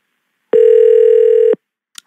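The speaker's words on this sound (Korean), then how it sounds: "계속 다른 6번으로 전화 걸고 있습니다." A telephone ring tone sounds once during an outgoing call on a Korean radio show, one loud steady electronic tone lasting about a second, followed by a faint click.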